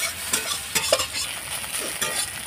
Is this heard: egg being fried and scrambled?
yes